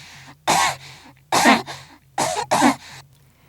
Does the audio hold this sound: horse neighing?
no